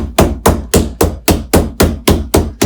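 Meat is pounded flat to about half an inch thick with sharp, heavy thuds, nine evenly spaced strikes in a steady rhythm, loud and close with nothing else heard.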